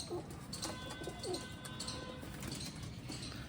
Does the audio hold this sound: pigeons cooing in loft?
yes